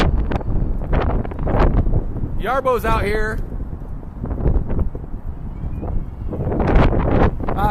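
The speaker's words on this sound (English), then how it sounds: "So here's what we're working with today, folks. 50-mile-an-hour winds," Strong 50 mile-an-hour wind gusts buffet the microphone outdoors with a loud, steady roar, while a person talks over it.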